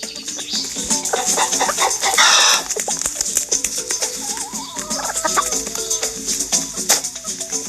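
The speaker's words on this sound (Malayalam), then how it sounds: "കോഴി" Loud clucking from a chicken with a brief squawk in the video game Scary Teacher Stone Age, over busy electronic background sounds and effects.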